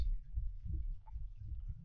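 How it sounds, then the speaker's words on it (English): Heartbeat in the horror video game Layers of Fear, a faint, low, muffled throbbing pulse repeating steadily under quiet ambience. "I don't know if you guys can hear that. It's like a heartbeat."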